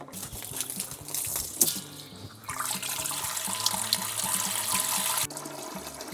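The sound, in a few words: well water running into a pot to fill it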